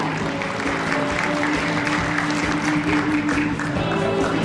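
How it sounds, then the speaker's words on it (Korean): Audience applause at an appointment ceremony during a medical street festival, a continuous, fairly loud clatter of many hands under a faint steady tone, with no break across the whole stretch. "여러분 큰 박수 부탁드리겠습니다."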